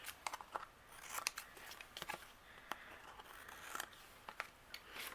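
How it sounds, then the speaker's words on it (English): Scissors trim overhanging patterned paper along the edge of a handmade card, giving a run of quiet, close crisp snips and crunching cuts in an irregular rhythm. "anything overhanging, I'm going to use my scissors and we'll trim away"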